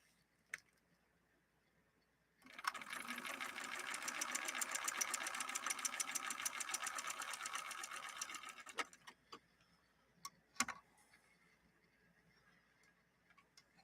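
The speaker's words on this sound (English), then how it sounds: "We'll stitch down a line of regular stitching doing that." A Bernina Record 930 Electronic sewing machine runs a line of regular straight stitching for about six seconds, a steady rapid needle chatter that starts abruptly and stops, followed by a few faint clicks in a quiet room.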